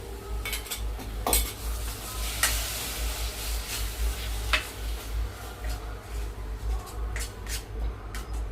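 A crab curry base of onion paste and tomato puree sizzles softly in a pan, with a spoon scraping and clinking against the metal at irregular intervals, close by and quiet.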